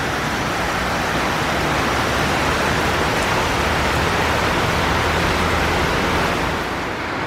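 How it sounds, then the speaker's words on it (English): Heavy rain pours steadily during the rainy season in La Fortuna, Costa Rica, a loud, dense, unbroken hiss of rainfall with no voices over it. "This rain really has me back indoors."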